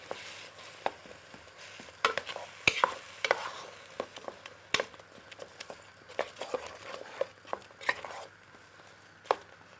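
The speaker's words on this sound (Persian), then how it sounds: "حال باز هم به شکل مخلوطش میکنیم" A spoon stirs black eggplant halim in a cooking pot, making irregular scraping knocks and soft thick bubbling that repeat across the span, fairly close and with no talking.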